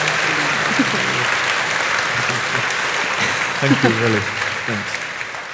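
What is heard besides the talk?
audience applause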